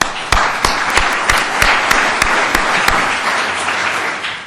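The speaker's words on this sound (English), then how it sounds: "I think we should applaud our Governor Cuomo and Lieutenant Governor" A courthouse audience at a Law Day celebration applauds Governor Cuomo and the Lieutenant Governor, loud full-room clapping with a few sharp accents, sustained throughout and slowly tapering.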